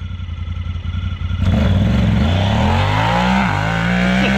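A side-by-side UTV, either a Kawasaki KRX1000 or a Honda Talon 1000R, launching in a drag race: a loud engine note that jumps to full revs and climbs with each gear, heard up close.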